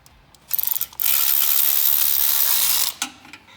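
A ratchet works an 8 mm bolt on the header heat shield of a Dodge Charger during a Corsa long-tube header install. A quick burst of ratchet clicks is followed by a long, steady buzzing run of clicks, close and loud, with no talk.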